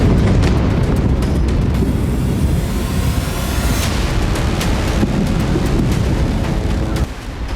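Bombs from Israeli fighter jets strike buildings in Gaza, a continuous heavy rumble of blasts and booming impacts with a sharp louder burst partway through, dense and loud throughout.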